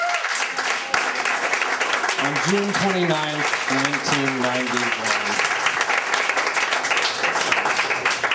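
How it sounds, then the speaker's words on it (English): Audience applause at a community history panel event fills the room steadily while a voice speaks over it partway through. "give a real hearty round of applause to the people who announced that"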